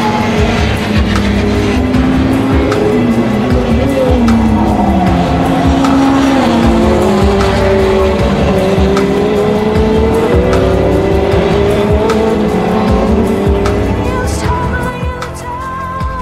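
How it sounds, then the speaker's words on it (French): Formula Renault race cars in winter testing, up to 35 cars on the circuit, roar continuously at close range, with engine notes rising and falling through gear changes and overlapping cars, loud throughout with no talk. "Pas moins de 35 voitures sont sur la piste."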